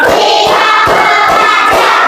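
A classroom of students claps together in rhythm on a teacher's count, the hand claps landing as a string of sharp, close, evenly spaced beats with no talking over them.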